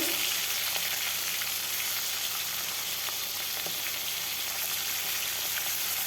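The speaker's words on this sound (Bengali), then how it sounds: "ভালোভাবে ভেজে নেব উল্টে পাল্টে।" Fish fries in hot mustard oil in a wok, giving a continuous close sizzle with scattered pops and crackles and no voices.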